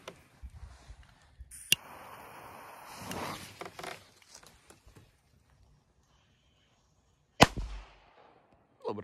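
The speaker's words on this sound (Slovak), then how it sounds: "Dobrá petarda." Two sharp, loud firecracker bangs several seconds apart, with faint rustling and handling noise between them.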